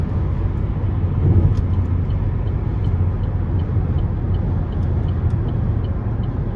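Steady low road rumble and tire noise fill the cabin of a 2014 Chevy Camaro V6 while driving, a continuous broadband hum with no talking.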